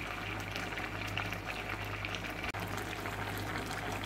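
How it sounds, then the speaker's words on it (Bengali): Bitter gourd curry with nappi fermented fish paste simmering in a pot, a steady close bubbling and hissing boil that runs without pause, with a brief dropout midway and no talking. "ঝোল আর একটু শুকাতে হবে, ঝোল একটু বেশি রয়ে গেছে।"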